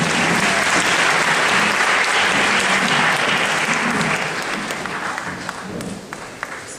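A large audience at a debating championship gives a sustained round of loud, dense applause for the speakers, steady at first and then tapering slightly toward the end.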